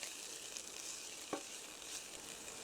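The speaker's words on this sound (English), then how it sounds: "And then just stir that in. I'm just going to cook it down now for about another minute." Orzo, clams and melting 'nduja are stirred together in a gently simmering pan. The soft, steady sizzle stays quiet and even, with a single light scrape of the spoon midway.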